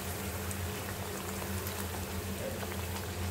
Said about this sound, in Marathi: मस्तपैकी गोल्डन फ्राय होतपर्यंत ते तळायचे